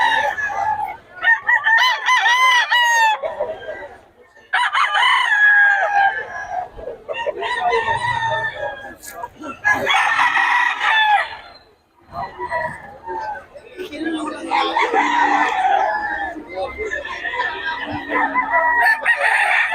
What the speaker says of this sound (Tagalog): Mga manok ni Boss Eric